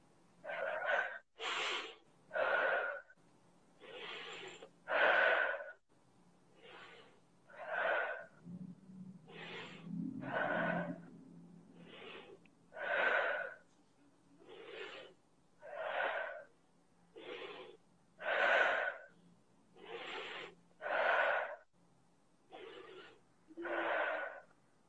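Deep, rhythmic breaths with sharp gasping inhales and exhales repeat steadily for about twenty-five seconds during a guided breathing exercise, close and fairly loud, with no speech over them.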